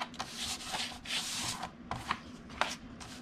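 A paper trimmer cuts a white card mat in several quick scraping strokes with brief pauses between, close and fairly quiet, no speech.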